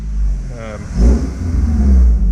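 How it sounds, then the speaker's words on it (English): A Honda S2000 engine runs close by just after an oil change, a steady low idle rising as the revs are briefly raised and held, with a voice heard faintly early on. "Raise the revs a little, make sure it's gone through."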